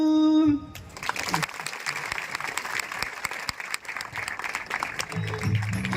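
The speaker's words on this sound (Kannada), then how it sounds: "ದಯವಿಟ್ಟು ಜೋರಾದ ಚಪ್ಪಾಳೆಯನ್ನು ಕೊಡಬೇಕು" Audience applause at an award felicitation ceremony, a sustained burst of clapping from a crowd that breaks in after a sung note and continues steadily, with voices faintly beneath.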